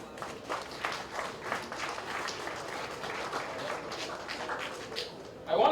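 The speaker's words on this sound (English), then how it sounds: "Something that I believe deserves a round of applause here this evening." An audience claps at an airline's 20th anniversary cocktail reception, a soft, scattered patter of hands heard from a distance, with a brief louder burst at the close.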